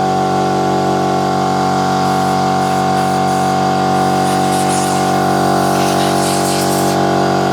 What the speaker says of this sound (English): A bit noisy, but we'll just use the compressor, some compressed air